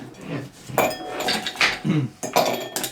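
Ice cubes clink into a glass as tongs drop them in one after another at home, several sharp, bright knocks and rattles close up with no talking.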